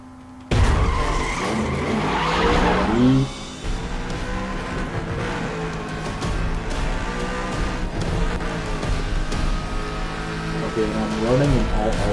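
A racing car in the video game Need for Speed The Run roars and skids with screeching tires over a steady engine drone, while a person talks over the game sound throughout.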